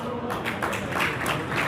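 An audience at a community gathering in Rajasthan claps in a dense, continuous patter of many hands, steady and fairly close throughout.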